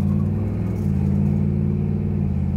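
A 1964 Ford Galaxie lightweight tribute drives and makes a U-turn, its V8 giving a deep, loud, continuous rumble heard up close with slight shifts in pitch as it turns.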